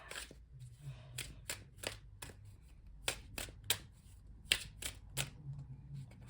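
A deck of tarot cards is shuffled up close in a series of quick, crisp riffles and flicks, each burst sharp and separate, with short pauses of faint handling noise between them.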